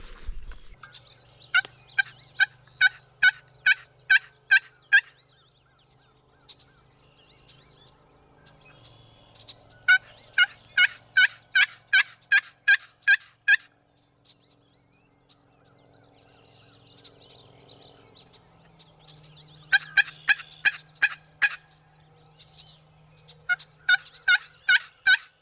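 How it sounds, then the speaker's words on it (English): Wild turkeys gobble in Michigan fields on a cold morning, rapid rattling bursts repeating in several clusters with quiet gaps between, sounding moderately distant in open country. "I'm a lot closer where I heard those gobbles."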